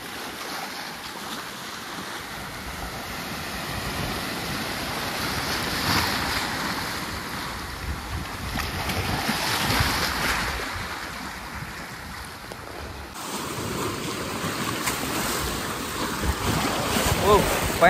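Strong surf surges and crashes against the rocks at Chirala rock beach, a loud continuous roar swelling in waves, heavy with wind buffeting the microphone and no voices.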